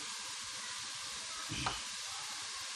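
Vegetables for Iranian sabzi sizzle steadily in a hot frying pan, a close, even crackle of oil. A brief soft thump and rustle marks more vegetables being tipped in partway through.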